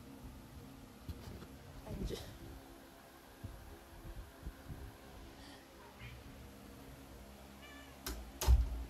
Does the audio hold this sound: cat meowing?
yes